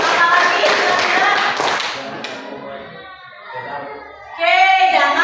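An audience claps at a school session at SMKS PGRI Wanaraja: a dense burst of hand clapping for about two seconds, then it fades out and children's voices and talk follow.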